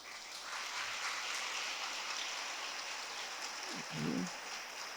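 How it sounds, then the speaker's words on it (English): Students at a school annual day function applaud their teachers, a steady, distant wash of many hands clapping that blends into a soft rain-like hiss, with a short voice near the end. "Please give a round of applause to all your teachers."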